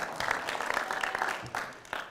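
A hometown Oceanside crowd cheers and applauds in a steady broadband wash of clapping and voices, loud and continuous with small swells throughout.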